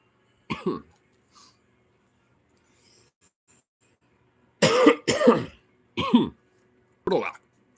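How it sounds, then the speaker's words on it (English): A man on a stream coughs several times near the mic: one short cough early, then a cluster of harsh coughs in quick succession, with quiet gaps between. "coughing up in front of, the mic"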